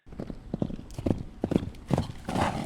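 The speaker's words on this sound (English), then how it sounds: "The Morgan might just be the horse that proudly trots in last place." Hooves of a Morgan horse trotting in Red Dead Redemption 2 clip-clop in a steady rhythm of close, clear hoofbeats that pick up slightly toward the end, with no talking over them.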